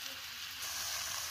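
Khichuri cooks on a clay stove by a riverside park, giving a faint, steady sizzle and hiss that grows slightly brighter partway through, with no talking.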